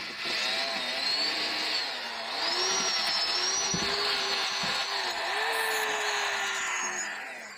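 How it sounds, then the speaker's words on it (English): Wire wheel on a power tool scrubbing rust from exhaust bolts on a 2007 Mazda Miata NC, a loud continuous abrasive whir with shifting pitch as pressure varies, close and steady throughout. "First, we're going to go after it with a wire wheel."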